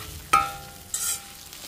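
Poha upma being stirred in a pan, with two short scraping strokes of a spoon against the metal and a light sizzle between them, close and otherwise quiet.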